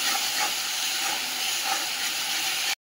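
Tomato paste fried and stirred in a pan for a home-cooked Bengali dish, a steady loud sizzling hiss running unbroken throughout, with faint scraping under it and no talk.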